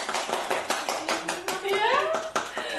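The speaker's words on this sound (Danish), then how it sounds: "Så klapper vi." Hands clap in quick bursts at a child's third birthday party, a series of sharp claps mixed with lively voices of adults and someone talking and singing over them.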